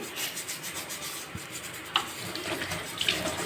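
Tap water runs steadily while a gas stove burner is scrubbed and rinsed at a sink, with soft rubbing and a couple of brief clinks near the end.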